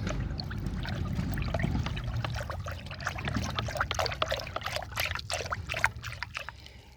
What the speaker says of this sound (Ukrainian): виливаю відро води, ретельно розмішую.